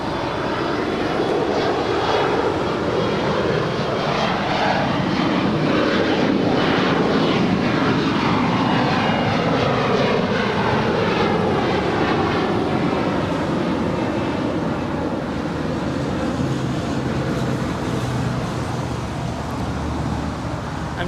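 A Boeing 737 jet in retro American Airlines livery roars past at Los Angeles airport, a loud, sustained engine wash swelling and fading over twenty seconds with no talk.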